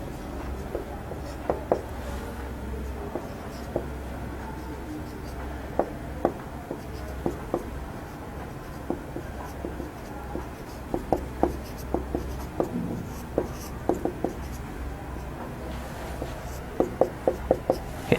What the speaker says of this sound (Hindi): इसमें हम सबसे पहले आपके सामने मुश्किल अल्फाज के मानी लिखेंगे